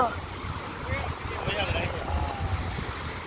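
Sea waves roll and wash along a shore at night during rough seas, a steady broad surf roar with low rumbling surges and wind buffeting the microphone throughout.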